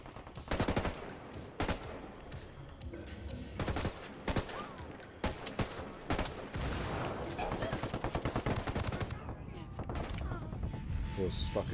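Gunfire in the video game Ghost Recon Wildlands, Narco Road DLC: repeated loud shots and rapid bursts crack through the whole stretch over a constant backdrop of game noise, with voices at times.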